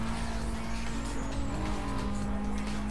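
Tires squealing as a car brakes hard in the racing game Need for Speed Most Wanted, a loud continuous screech layered over a steady roaring engine drone, with no pause throughout.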